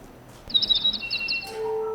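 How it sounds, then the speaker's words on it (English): A short chirping birdcall plays as a stage sound effect during a theatre production of Disney's Mary Poppins, a quick run of bright tweets lasting under a second, then a sustained whistled tone, over a quiet room. "It's a bird."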